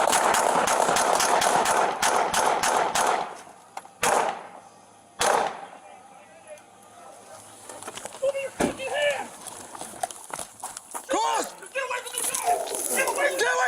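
Gunfire crackles during a police shootout with a man violating a protection order, recorded on body camera: a rapid, loud volley of shots opens, followed by a few isolated bangs and shouting voices.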